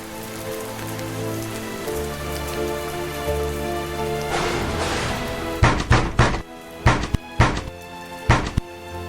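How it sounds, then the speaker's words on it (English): Heavy rain pours down steadily in a storm battering castle walls, and partway through, several loud, separate thuds break through the downpour. "listening to the storm batter the castle walls"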